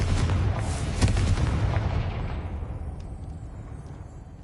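A Confringo fire spell in Hogwarts Legacy hits with a loud, booming blast. Its broadband rumble swells to a peak and then slowly fades away as a low rolling tail.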